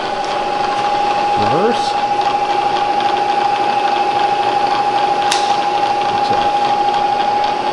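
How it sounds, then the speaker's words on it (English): A Bridgeport Series I EZ-Trak 2-axis CNC vertical toolroom mill with power drawbar running with a steady, loud mechanical whine and hum, close by, while someone speaks briefly over it. "this is a Bridgeport Series 1 Easy Track 2-axis CNC milling machine"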